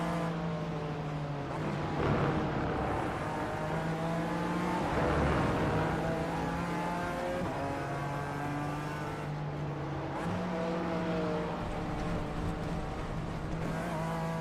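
A BMW race car engine in the iRacing simulator drones loudly and steadily as it shifts through gears, with pitch dips and rises as the driver lifts and accelerates.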